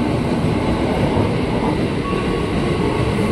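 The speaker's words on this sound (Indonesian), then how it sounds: "Dan ini KRL-nya tuh iyalah udah 12 kereta." A 12-car KRL electric commuter train rumbles through a station, a loud, steady low roar of wheels and car bodies close by, with no speech.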